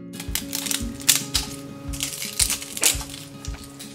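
Close, crisp crunching of kale chips being chewed, a rhythmic series of sharp crackly bites repeating about twice a second.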